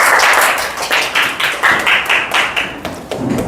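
A church audience claps in a quick, even rhythm to welcome a speaker to the front. The pulsing clapping is close and fairly loud for several seconds.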